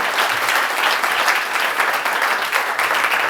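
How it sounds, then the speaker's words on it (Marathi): A college audience at a road safety awareness campaign claps loudly and steadily, a dense, sustained wall of applause from many hands. "जोरदार टाळ्या झाल्या पाहिजे या गोष्टीसाठी."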